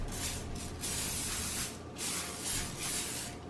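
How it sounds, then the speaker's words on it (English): Nonstick cooking spray misted onto a pretzel baking pan during homemade Auntie Anne's-style pretzel making, several short soft hissing bursts in quick succession, close and fairly quiet. "should I still spray it with nonstick spray?"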